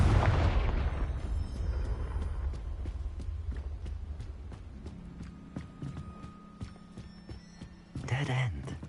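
A Confringo spell bursts in Hogwarts Legacy, opening with a loud rumbling blast that fades into a low hum and scattered thuds, then a second sharp burst near the end.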